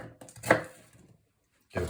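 A knife cuts vegetables into chunks for a Lancashire hotpot, a single close thud on the board followed by a brief pause and another cut.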